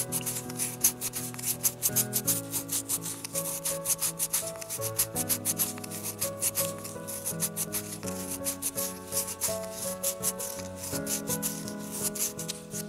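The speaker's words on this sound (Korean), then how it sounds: "첫 번째로 220번 써져 있는 사포를 사용해서 면을 많이 정리를 해주실 때 이거 사용해 주시면 돼요." A miniature bowl is rubbed with coarse 220-grit sandpaper in quick, rhythmic scratchy strokes that repeat steadily over background music.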